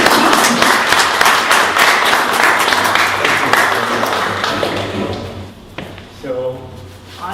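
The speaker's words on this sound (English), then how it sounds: "So if we could have a big round of applause for Edward, that would be great." An audience claps loudly at a tech meetup for a few seconds, the applause thinning and fading out, followed by a brief quieter stretch with faint voices.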